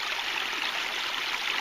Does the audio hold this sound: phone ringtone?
no